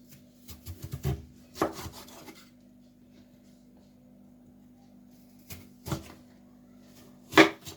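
Potatoes being cut by hand for french fries, scattered scraping and chopping knocks in short bursts with quiet gaps, close by over a faint steady hum.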